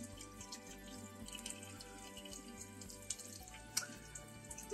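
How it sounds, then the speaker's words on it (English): Running tap water spatters over a makeup brush being wrung out by hand in a sink, a continuous close splashing with irregular drips and squelches, plus a faint low hum beneath. "I'm trying to wring it out a bit under the water."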